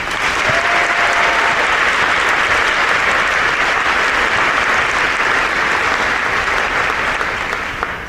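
Students at a class induction ceremony receive loud, sustained applause from a large audience, an unbroken wash of clapping that fills the whole stretch without speech.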